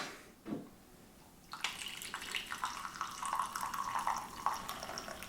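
Brewed French roast coffee pours into a cup, a steady trickling splash that starts after a short pause and runs continuously at close range with no talk over it.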